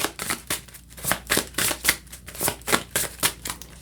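Oracle cards are shuffled in quick, steady riffling bursts, about three per second, close and crisp with no voices.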